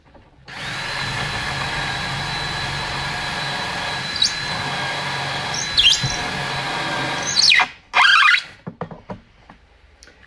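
A drill driver runs steadily, driving screws into wood while a craft table is built, with a continuous whirring motor and a few short bursts and pauses near the end; no speech.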